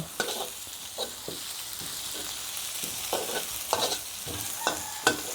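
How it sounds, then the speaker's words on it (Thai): Galangal, lemongrass, garlic, chili and coriander root are stir-fried in pork lard, a close sizzle broken by repeated rhythmic scraping strokes of a spatula against the pan. "ผัด ข่า ตะไคร้ กระเทียม พริก รากผักชีค่ะ"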